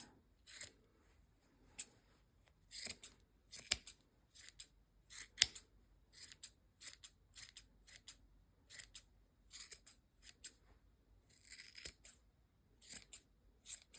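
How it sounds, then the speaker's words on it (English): Scissors trim a crocheted hat's yarn pom-pom with a steady series of quick, crisp snips, close and fairly quiet, repeating every second or so with no talking. "now we're just going to take our scissors and just trim this up so it's all nice and even"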